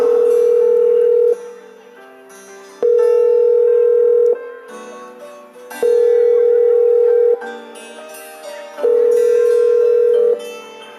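Phone call ringback tone in a Hindi school annual function play: four long, loud, even tone bursts, each followed by a quieter gap with a softer lower tone, repeating steadily.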